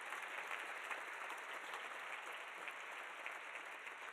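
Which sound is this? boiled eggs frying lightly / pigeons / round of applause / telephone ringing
round of applause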